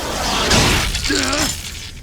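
A spaceship window in the video game Xenosaga is struck, a broadband crack-and-shatter burst near the middle over a game soundscape, followed by a brief warbling tone.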